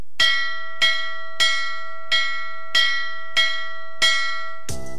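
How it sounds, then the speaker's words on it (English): In the JumpStart Kindergarten computer game, a bell dings seven times in an even, clear rhythm. Each loud ringing strike decays before the next, and a short different sound follows at the end. "I hear a bell ding-dinging."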